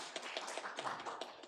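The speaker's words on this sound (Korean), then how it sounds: "환영해 주십시오. 박수로." Quiet applause in a church welcoming the pastor's wife, with soft, rapid claps from a small congregation blending into a brief patter, distant and faint.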